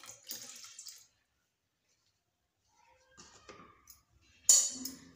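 Water poured over rice batter with salt for appe, short close splashy bursts separated by silence, the last pour loudest.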